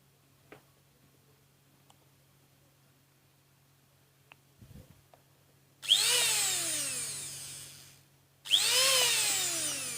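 An electric food processor motor, removed from its seized planetary gearbox, runs alone in two bursts, each starting with a rising whine and humming steadily for a few seconds before stopping, near and loud.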